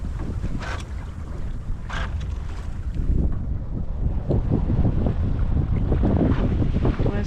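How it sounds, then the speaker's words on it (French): Wind at sea aboard a sailboat: continuous blustery wind rushing over the microphone with water sloshing against the hull, gusts strengthening partway through, no talking. "Pour l'instant, il y a un bon petit vent là,"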